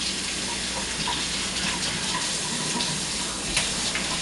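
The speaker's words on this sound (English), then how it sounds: "So rinsing your hands," Tap water running steadily as hands are rinsed under it in a kitchen sink while baking brookies: a continuous close gush with slight splashing changes, no talk.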